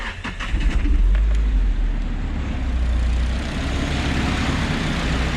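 A Nissan 180SX, back running after four years off the road, rumbles with a loud, deep exhaust note that swells early on, then settles into a steady, close idle with no talking.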